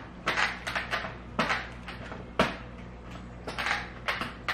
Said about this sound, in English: However, it's squeaking loudly.